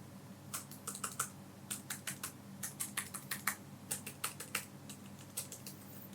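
Typing on the keyboard of a 2020 Razer Blade 15 laptop: quick clusters of light, clicky keystrokes in bursts with short pauses, close and fairly soft, with no voices.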